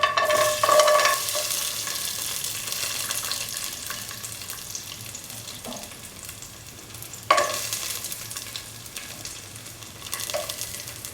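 Cashew nuts sautéing in a pan for semolina kheer give a steady soft sizzle, with occasional sharp clinks of a utensil against the pan.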